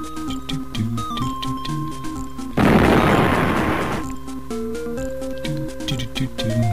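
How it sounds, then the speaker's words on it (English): A bomb goes off in the puzzle game Sink or Swim: a single loud, rumbling blast that lasts over a second, rising out of steady electronic game music that carries on before and after. "Can I bomb it?"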